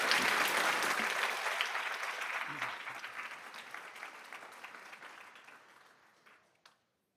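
Audience at a school board meeting applauds a student's essay achievement, a dense burst of clapping that starts strong and gradually fades out to silence.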